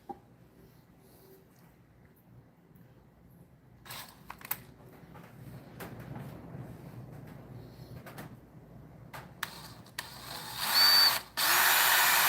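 Power drill fitted with a very small bit, running in short bursts with a louder high-pitched whir near the end, close by, with no talking.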